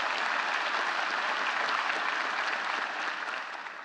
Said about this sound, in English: Wood, please stand and be applauded for your great work.